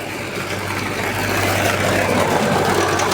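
A tractor engine runs steadily nearby with a low, droning rumble and a constant hum, loud and unbroken throughout.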